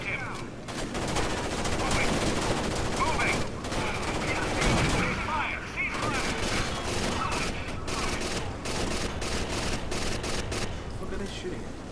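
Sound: gunfire in video game Rainbow Six Vegas 2

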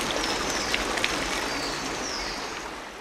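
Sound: sacred water flowing at Ollantaytambo bath

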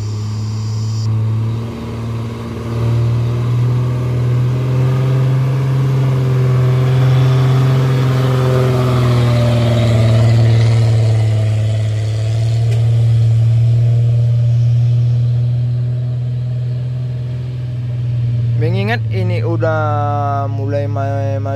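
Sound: truck climbing the Batu Jomba incline, engine revving

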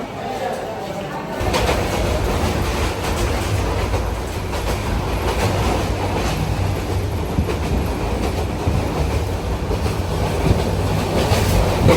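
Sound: passenger train at Akhaura junction railway station

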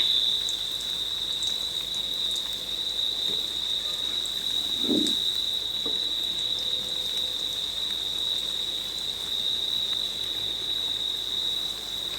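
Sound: potato pakoras frying in oil

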